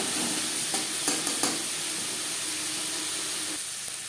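Onion and tomato fry in a pan for Bengali fish egg curry, a close steady sizzle with a few quick scraping stir strokes early on that ease off into an even hiss.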